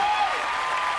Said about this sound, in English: let's keep the applause going for the other guys